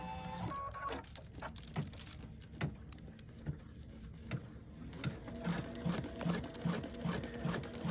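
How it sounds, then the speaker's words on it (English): An embroidery machine stitching a box outline around a Mylar sheet, a steady run of quick mechanical needle taps with whirring motor hum, fairly faint and without speech. "First thing it's going to do is stitch this box around."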